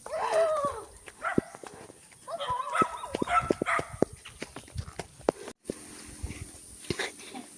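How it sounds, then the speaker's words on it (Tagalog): Dogs bark angrily in bursts of sharp, mid-range barks while following people up a steep slope outdoors, with footsteps and brief human sounds between the barks. "Yung mga aso, sinusundan tayo. Galit na galit sa atin."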